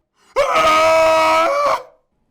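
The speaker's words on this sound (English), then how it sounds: "There was a scream behind me, a sound not even human." A single inhuman scream used as a sound effect in an audiobook, a loud, sustained shrieking wail lasting over a second before cutting off, heard alone.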